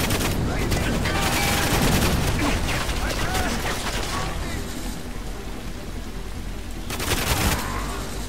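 Heavy, continuous gunfire in GoldenEye 007 Reloaded, a dense stream of shots with a louder burst near the end, under someone talking over the action.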